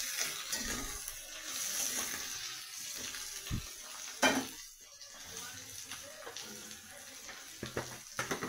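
Mixed vegetables with eggplant fry in a pan with a little turmeric, giving a steady sizzle broken by occasional clinks and stirring scrapes over several seconds.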